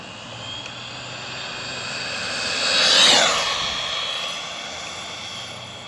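An RC car fitted with a Castle 2650kv motor runs at full throttle on 2S, a high-pitched whine that swells as it passes close around the middle and then fades away, with no talking.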